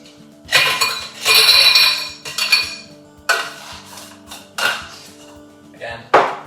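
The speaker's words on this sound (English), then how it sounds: "and now we're just going to stir this down" Ice clinking and rattling against glass as a bar spoon stirs a cocktail made with MONIN Acerola syrup, in several loud bursts of rapid jangling separated by short pauses, close up and without voices.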